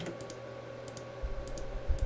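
Mouse clicks from plotting points with the Photoshop pen tool, a few soft, quick taps that sound close and fairly quiet over a steady background hum, with no talking.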